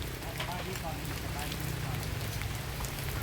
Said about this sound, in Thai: พี่น้องเลยฝนตกวันนี้จ ฝนลิ้น